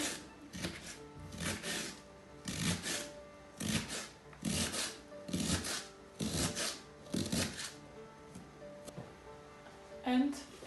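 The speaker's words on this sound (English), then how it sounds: "Now we cut our cabbage" Cabbage is chopped with a knife, with repeated crisp crunching cuts in an uneven rhythm, close and fairly quiet, and a voice talks now and then over the chopping.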